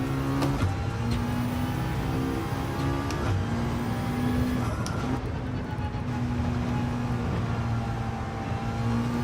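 Car in Gran Turismo 7 running steadily in a race, a continuous engine whine with gear-change pitch steps, loud and close with a whirring undertone; no talk.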